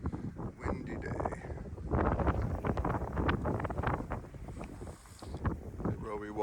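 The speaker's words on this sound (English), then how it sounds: "Windy day" Wind gusts roar across the microphone on a mountainside by a vertical mine shaft near Superior, Arizona, loud and uneven buffeting that surges and eases throughout.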